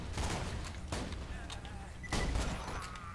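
Gunfire from a weapon in the video game Borderlands 2, a few loud booming shots spaced irregularly over game background noise, with a voice talking over them.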